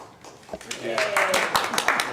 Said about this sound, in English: And we got a golf clap